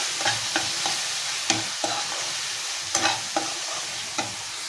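Spices and turmeric fry in a pan with a dense, even sizzle, punctuated by regular scrapes and knocks of a spoon stirring through the mixture.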